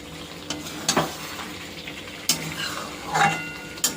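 Meat with garlic sizzles in a pan and is stirred, a steady frying hiss punctuated by several sharp clacks and scrapes of the spoon against the metal.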